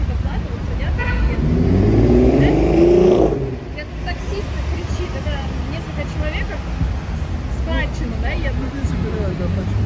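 Cars and taxis idle and move at an evening taxi stop on a street in Baku, Azerbaijan, giving a steady close engine rumble with one rising rev, while people talk nearby.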